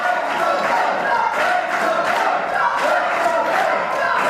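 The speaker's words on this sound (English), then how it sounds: "Why on earth are they still chanting his name?" A wrestling crowd chants a name in rhythmic, repeated waves throughout, loud and sustained, with cheering mixed into the steady chant.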